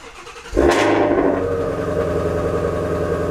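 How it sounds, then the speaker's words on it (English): A 2019 Ford Mustang GT350 V8 with a Corsa X-pipe exhaust cranks and cold-starts with a sharp exhaust roar, then settles into a deep, loud, rumbling idle. "Cold start on the 2019 Mustang GT350 with the Corsa X-Pipe."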